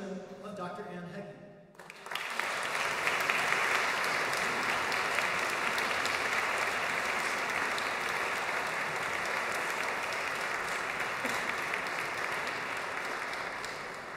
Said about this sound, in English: Please give a round of applause for the Jubilate Orchestra and members of the San Francisco Girls Chorus